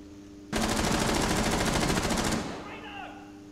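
Sustained automatic gunfire through a trapdoor in Rainbow Six Siege, a loud, rapid continuous burst lasting about two seconds, then tapering off. A voice talks briefly afterward.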